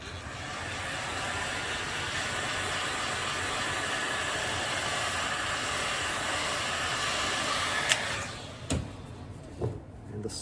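A heat gun blows steadily on the cracked cork of a Birkenstock Florida sole, a constant airy whoosh that cuts off near the end, followed by a few sharp knocks and clicks.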